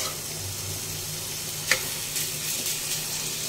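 Sisig sizzling in a small frying pan, a steady close hiss of frying with a faint clink or tick partway through and no talking.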